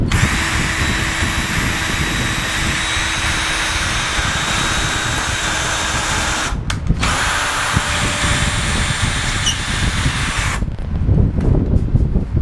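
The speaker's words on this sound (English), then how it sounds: "we are creating pilot holes first to ensure that we're not splitting the wood" Power drill boring pilot holes in a thin wood frame for a farmhouse kitchen light fixture, a loud, close, sustained whine that runs for several seconds, breaks briefly, then resumes and cuts off near the end.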